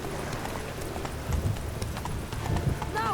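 Horse hooves galloping in The Witcher 3 video game, a rhythmic clip-clop of quick hoofbeats up close, with a brief horse whinny near the end and a voice speaking over it.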